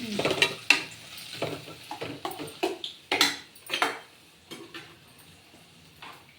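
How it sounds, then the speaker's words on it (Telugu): A spatula stirs uggani, a puffed-rice dish, in a pan after coriander goes in, making a burst of scraping strokes and metallic clinks that thin out into a few quieter scrapes near the end. "కొంచెం కొత్తిమీర వేసి కలపాలి కదా."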